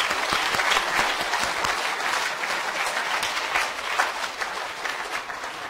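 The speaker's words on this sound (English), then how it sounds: "we need to give Glenn Moots a round of applause" Sustained applause from an audience, a dense steady patter of many hands clapping at full strength throughout with no voices over it.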